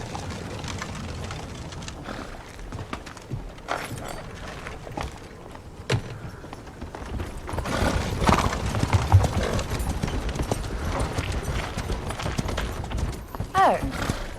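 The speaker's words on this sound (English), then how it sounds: "Mr. Knightley, you must move your carriage." Horse-drawn carriage in a period-drama setting, hooves clip-clopping steadily at moderate distance beneath rumbling wheels, with a horse whinnying briefly and people talking over it.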